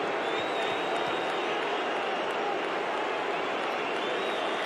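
Dense stadium crowd roar at an AFL Showdown between Adelaide Crows and Port Adelaide, a constant wash of distant voices and noise with no distinct peaks.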